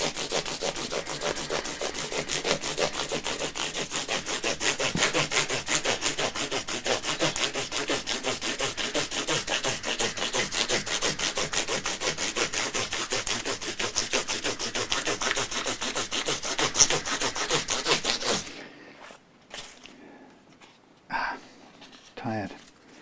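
Wood guitar fretboard on a Fender American Professional Stratocaster being sanded with progressively finer sandpaper, a loud, steady rapid back-and-forth rasping that runs continuously and stops abruptly near the end, followed by a few faint handling knocks.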